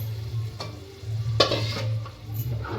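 Fenugreek and spinach greens for garagati bhaji being stirred in a hot pan, a moderate sizzle under a low hum, with a few sharp spatula scrapes and clinks, no talking.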